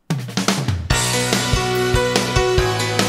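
A quick run of rapid snare drum strokes opens, then a full band kicks in with steady, punchy drum hits under the music.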